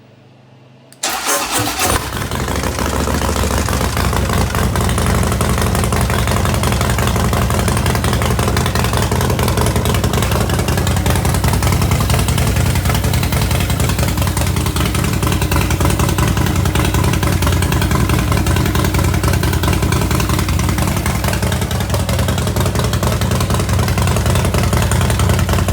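A motorcycle engine fires up right after an oil pressure gauge install, catching abruptly and then running at a loud, steady, close idle for the rest of the test run, with no talking.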